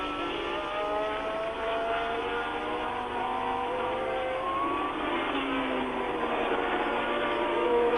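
Formula 1 racing cars of 1979 at the French Grand Prix, a steady loud blend of high-pitched engine whine from several cars close together, holding without a break.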